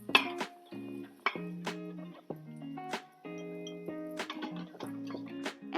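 Crispy pieces of fried guanciale are moved from a pot into a bowl for spaghetti carbonara, giving a close run of light clinks, taps and scrapes against the dish with short gaps between them.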